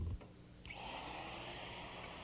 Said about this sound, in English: You follow the outline, and the bit does the cutting.